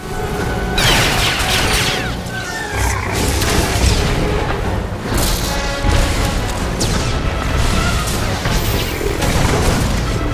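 Heavy missile attack explosions in Star Wars: The Old Republic's Eternity Vault on Belsavis, a dense, continuous barrage of booms, crashes and clattering battle noise filling the whole stretch, with faint voices mixed beneath.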